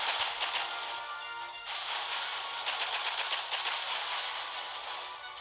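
Sustained rapid gunfire from the Sergeant Brick troop in the Boom Beach video game, a dense, crackling stream of shots with brief bursts of sharper reports, steady and fairly close throughout.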